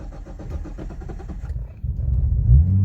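A Nissan Skyline R34 GTT engine fires up and settles into a steady idle, its low rumble growing louder and filling the cabin after a short stretch of other sound at the start.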